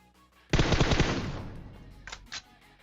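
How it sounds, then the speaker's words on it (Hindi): A sudden loud burst of rapid automatic gunfire in PUBG rattles for about a second and trails off, followed by two short sharp shots, all with a synthetic game-like quality. "अब मैं गाड़ी पे गोली चलाता हूँ, दीवार पे गोली चलाता हूँ"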